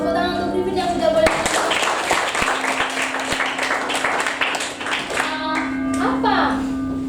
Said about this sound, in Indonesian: terima kasih Griffin untuk tepuk tangan untuk Griffin yang sudah boleh.